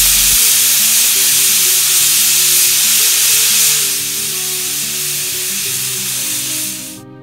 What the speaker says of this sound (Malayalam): കുക്കറിൻ്റെ ലിഡിട്ട് 3 വിസിൽ വരെ വെയിറ്റ് ചെയ്യുക.